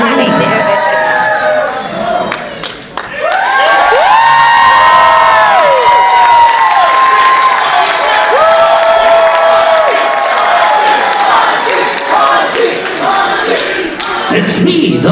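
A loud audience at a horror convention panel cheers and whoops continuously, with excited shouts and high yells rising over a dense, roaring wall of voices.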